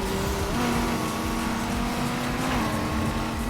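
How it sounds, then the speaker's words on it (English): A car engine droning steadily through a handbrake turn in a racing video game, a sustained loud whining tone that shifts pitch as it slides, with no talk over it. "that's a handbrake turn right there"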